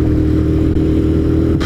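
A motorcycle rides along a wet road, its engine droning loud and steady from close by with a faint hiss beneath it, and no one speaking.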